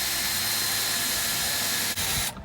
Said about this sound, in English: I'm going to let Kaylee drill the first hole so we can get our jigsaw blade started